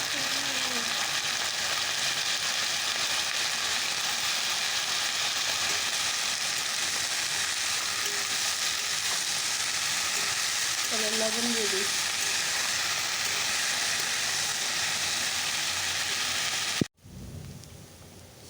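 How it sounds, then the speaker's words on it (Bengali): Onion and leafy greens fry in a pan, giving a steady, even sizzle like light rain that runs unbroken for about seventeen seconds. A faint voice rises briefly midway, and the sound cuts off abruptly near the end. "হালকা পেঁয়াজটাকে ভেজে নিলাম শাকটা দিয়ে"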